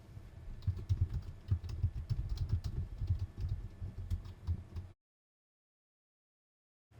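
Rapid typing on a computer keyboard, with dense, uneven key clicks for about five seconds, then sudden silence.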